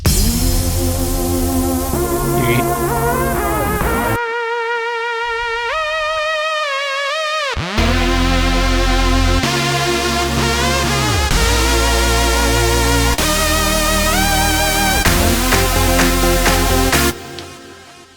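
Supersaw lead synth in FL Studio playing a bright, gliding melody over thick, massive saw chords in an EDM progression, loud and full, with a brief thinner section midway and no voices.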